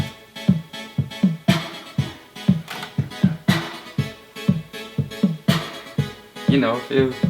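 A pop beat plays with a strong, punchy snare hitting on a regular pulse over bass and synth layers.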